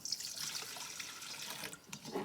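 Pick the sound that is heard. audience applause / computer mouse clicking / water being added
water being added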